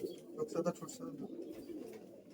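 Giribaz pigeons at a sale in West Bengal coo softly. A few quiet, low throaty notes come close together, faint against a little background noise.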